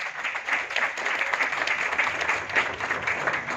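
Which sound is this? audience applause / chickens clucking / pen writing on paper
audience applause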